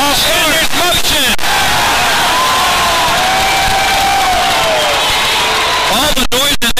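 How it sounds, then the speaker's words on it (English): A loud arena crowd cheers and roars throughout a Carolina Energy versus Richmond RoughRiders indoor football game, with sustained shouting and babble, bursts of noise at the start and end, and a commentator's voice over the din. "This crowd is into it now"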